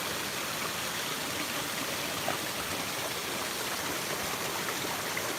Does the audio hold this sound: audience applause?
no